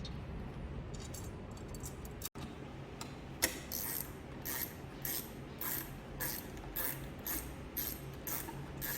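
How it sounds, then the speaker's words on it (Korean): A 10 mm spanner tightens a bolt on a BENNETT H860B cleaning machine, giving a run of repeated ratcheting clicks in quick, regular bursts, close and fairly quiet, after one sharp click, with no talking. "아까 사용했던 10mm 스패너를 이용해서 다시 조여주시면 됩니다."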